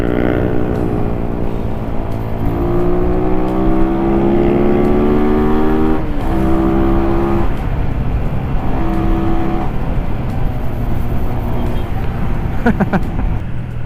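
A Rusi Flash 150X motorcycle engine revving up repeatedly in short bursts that rise in pitch and then drop, heard close over road and wind noise, with a voice speaking at times.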